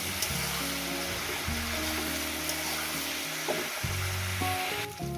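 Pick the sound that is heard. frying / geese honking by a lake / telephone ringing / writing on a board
frying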